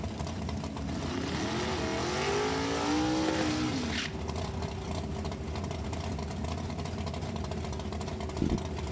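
A 1957 Corvette drag car with a 565-cubic-inch engine accelerates down the strip in Super Gas eliminations at National Trail Raceway, its engine note climbing steadily then holding a sustained drone over constant track rumble.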